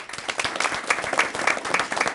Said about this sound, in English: Okay, round of applause, please.